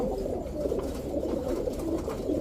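A pair of red gorra pigeons coos softly and continuously at close range, with steady low, rolling calls and no talking.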